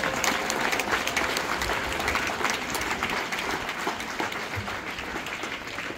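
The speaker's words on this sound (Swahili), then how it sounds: "Jamani, mpigieni makofi Mama Samia." An audience applauds for President Samia at a launch of ICT equipment for 422 secondary schools, with steady, dense clapping from a large crowd that continues for several seconds and tapers slightly toward the end.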